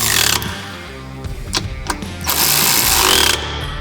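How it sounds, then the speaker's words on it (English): A ratchet tightens running board mounting hardware on a Ford F-150, giving bursts of rapid clicking separated by short pauses and sharp metallic clacks, close and loud, with no talking. "Start the tightening process with the boards first"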